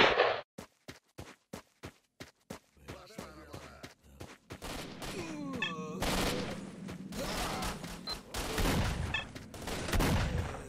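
Gunfire in the video game S.T.A.L.K.E.R.: Shadow of Chernobyl: a rapid string of sharp single shots, then a dense, loud burst of overlapping fire that continues on and off to the end.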